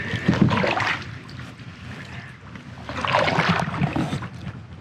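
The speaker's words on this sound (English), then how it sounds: "Notice I'm letting her do all the paddling" Kayak paddling on the Silver Springs river in Silver Springs State Park, with two swells of water swishing and splashing around the second and fourth seconds over a steady outdoor hiss and light wind.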